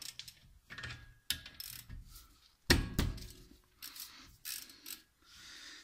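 A ratchet wrench loosens the 14 mm bolts on the front brakes of a 2007–2011 Toyota Camry, with bursts of quick metallic ratcheting clicks and a sharp clunk in the middle, separated by short pauses, close up.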